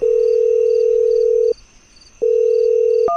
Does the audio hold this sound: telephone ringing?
yes